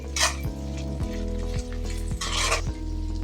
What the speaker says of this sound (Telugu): ఒక 5 నిమిషాల్లో ఇలా వేయించాలి